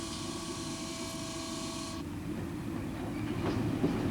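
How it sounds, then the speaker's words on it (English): A shunting locomotive at work on the Swiss BLS railway, giving a steady loud mechanical rumble with a sustained tonal whine that cuts off midway, followed by continued rolling noise and faint clanks. "A shunting locomotive and its team work for business, whilst another shunter rests."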